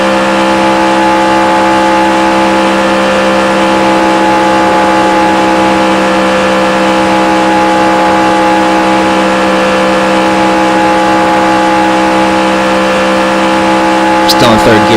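A NASCAR Craftsman Truck Series racing truck's engine in the NASCAR Racing 2003 game at Daytona: a loud, steady, high-revving drone held at constant pitch throughout, with a brief sharper burst near the end.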